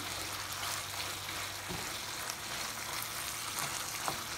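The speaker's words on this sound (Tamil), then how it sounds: "இன்னும் ஒரு ரெண்டுலேருந்து மூணு நிமிஷம் வரைக்கும் இதை வதக்கிக்கலாம்" Pepper chicken with curry leaves sautéing in a pan: a steady, fairly loud frying hiss runs throughout, with a few faint scrapes and pops scattered across it and no voices.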